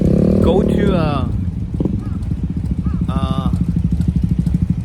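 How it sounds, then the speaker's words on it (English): Kawasaki ZX12 motorcycle riding near Mount Fuji in Japan, its engine pulsing in a steady low rapid throb up close, with someone talking over it throughout. "So today I'm trying to ride on my bike"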